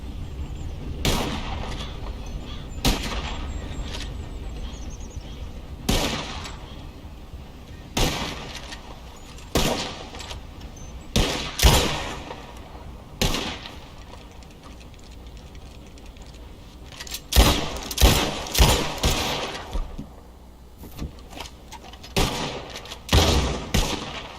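Gunshots ring out at flying birds in the video game Red Dead Redemption 2, heard as loud, sharp reports spaced several seconds apart, then a quick cluster of shots, over faint background ambience.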